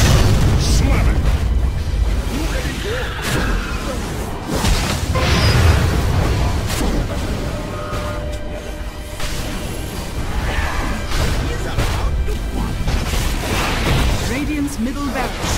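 Earthshaker's slam abilities in the video game Dota 2 set off loud, deep booming explosions with whooshes and bursts, layered densely over game effects and voices speaking throughout.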